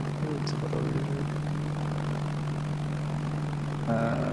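A video game aircraft makes a flyby, giving a steady engine drone with a constant low hum that holds for the whole stretch and rises slightly near the end, with no talk over it.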